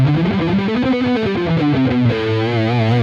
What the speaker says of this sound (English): If you really kind of overdo it and use a lot of distortion